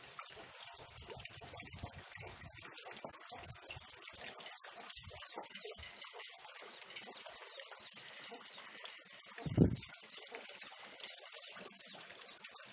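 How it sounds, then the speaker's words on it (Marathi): Steady heavy rain falling outdoors, a continuous dense hiss of water with a brief louder splash partway through, no voices. "हा कालपासून पूर्ण पाऊस वगैरे आहे चालू"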